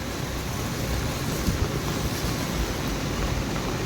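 Monsoon flood water flows in Nepal with a steady, dense rushing roar that stays loud and unbroken throughout, with no voices over it.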